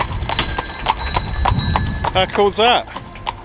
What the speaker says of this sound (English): here is you can get a horse and cart, which is pretty cool